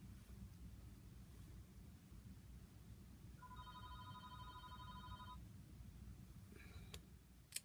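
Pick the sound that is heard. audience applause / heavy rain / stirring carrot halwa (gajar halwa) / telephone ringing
telephone ringing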